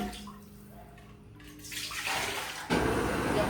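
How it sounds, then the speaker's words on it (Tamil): Water poured from a tumbler into a pot for biryani, starting as a thin trickle and building into a fuller, louder splashing stream near the end, close by with no talking. "இதில் 10 டம்ளர் தண்ணி வந்து ஊற்றி வச்சிருக்கேன்."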